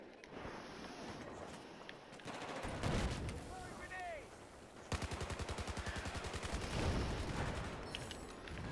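Gunfire in Battlefield 4 echoes inside a corridor: single shots first, then a long burst of rapid automatic fire that rattles loudly and evenly for several seconds.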